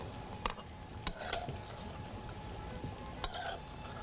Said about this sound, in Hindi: दही डालने के बाद आप इसकी भुनाई करेंगे, जैसे कि इस वक्त मैं कर रही हूँ